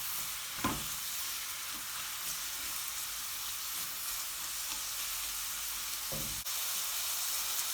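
About 200 grams of diced onion fry in a pan over slightly raised heat, a steady close sizzle broken by two brief stirring scrapes, with no speech.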